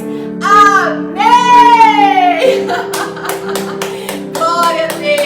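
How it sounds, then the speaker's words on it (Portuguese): A church congregation at a worship service claps in a steady rhythm over sustained organ-like chords, and a voice sings or calls out above the music before the claps come through. "Aplauda ao Senhor, aplauda ao Senhor!"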